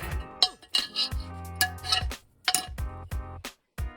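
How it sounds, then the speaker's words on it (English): A metal or ceramic heat deflector set into a Kamado grill, giving a string of close clinks and clanks with ringing metallic tones, several sharp hits spaced over a few seconds. "Now we place the heat deflector in."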